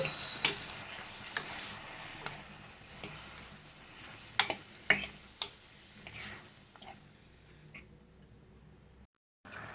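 Onions and tomato pieces for a Mangalore cucumber curry fry quietly in a pan, giving a soft steady sizzle. Sharp clicks of stirring come at irregular intervals before the sound cuts to silence.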